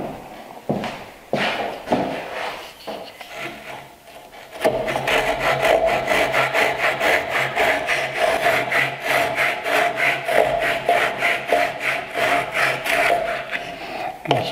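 A hand saw cuts a 45-degree tenon shoulder in wood for a mitered bridle joint. A few tentative starting strokes lead into a long, steady, rhythmic run of close rasping strokes.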